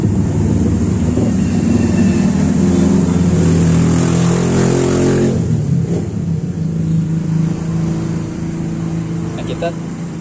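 Engine of a 2020 Toyota Calya 1.2 with manual transmission, idling steadily and loudly at close range with a low rumbling drone, with a slight change in tone midway.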